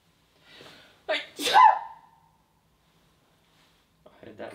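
A single sharp sneeze in a quiet, empty old prison, loud and close, preceded by a soft breath, followed by silence and then faint murmuring.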